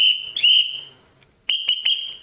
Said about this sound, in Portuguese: Isso eu faço com apito, cara.